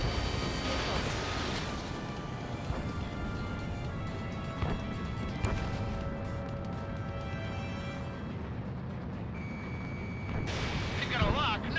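Missile launches in the Ace Combat 7 flight game come as a continuous rumbling roar of jet and weapon fire with repeated booming whooshes, loud and dense, while radio chatter plays over it.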